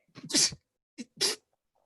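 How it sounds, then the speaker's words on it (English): Two sneezes, one after another with a short pause between them, each a sharp breathy burst. The sound is close and clear against silence. "begins to sneeze uncontrollably."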